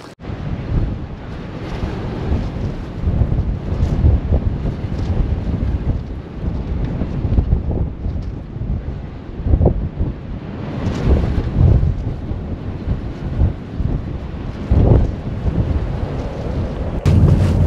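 Strong wind gusts roar and buffet the microphone at Nordkap, surging and easing in waves throughout with no voices heard.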